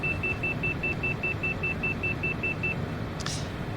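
A Cessna Citation's overspeed warning in a flight simulator beeps steadily in an even, rapid series of short tones for nearly three seconds, over a constant engine and cockpit rumble, then stops.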